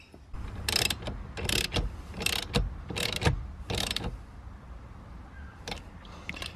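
A ratchet tightens a quick release steering wheel bolt in a series of close, loud clicking bursts with short pauses between strokes, then a few fainter clicks.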